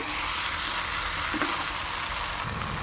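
A potato, pointed gourd and egg curry sizzles steadily in a pan over a lowered flame while it is stir-fried, a continuous close frying hiss with one faint knock partway through.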